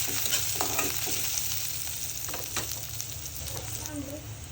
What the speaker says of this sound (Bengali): পেঁয়াজ কুচি দিয়ে দিব ফালি করে রাখা কাঁচামরিচ, নেড়ে একটু মিশিয়ে নিব